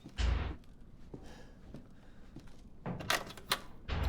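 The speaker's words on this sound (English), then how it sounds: "Open door." A door opens in Resident Evil 7, a heavy low thud at the start followed by creaks and rattling, then another thump at the end, fairly quiet overall.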